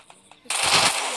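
Gunfire in the video game Free Fire, a sudden loud burst of shots cutting in halfway through after a brief quiet moment.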